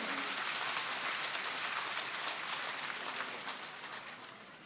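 A large crowd at a political rally in Tezpur claps steadily and densely, a continuous wash of applause that stays loud throughout and tapers slightly at the end.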